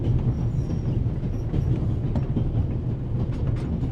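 Steam train moving in the game The Raven: Remastered, heard from on board: a constant loud low rumble with faint rhythmic clicking of wheels on rails, steady throughout with no voices.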